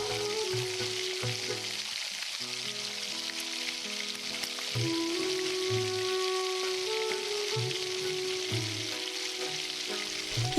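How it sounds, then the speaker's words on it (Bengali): Potatoes fry in a pan with bay leaves and dried chilli, giving a steady close sizzle and crackle with occasional stirring, and no voices over it. "আলুগুলো বেশ খানিকক্ষণ ভেজে নেবো ভালো করে।"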